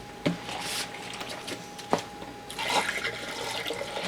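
Water is swirled and rinsed inside homebrewing containers, a steady wet sloshing with a couple of sharp knocks and a faint tonal hum running underneath, fairly close.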